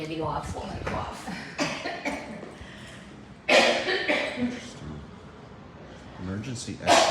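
A man coughs several times in an Otis hotel elevator lobby at Fallsview Casino Resort, Niagara Falls, Ontario, with short throaty bursts scattered among people talking nearby.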